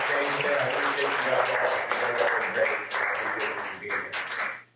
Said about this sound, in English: just a round of applause for Raul